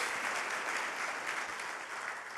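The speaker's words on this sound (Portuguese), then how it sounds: "Você pode aplaudir o Senhor por isso?" A church congregation applauding during a sermon, a dense steady wash of clapping at moderate distance, fairly faint and sustained for the whole stretch.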